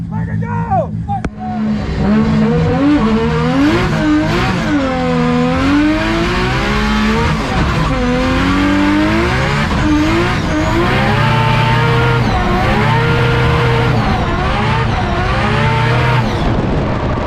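An Australian-built drift car at the Ebisu circuit gives a loud, close engine that revs hard and wails up and down with sustained tire squeal as it slides, under excited shouting from people on board.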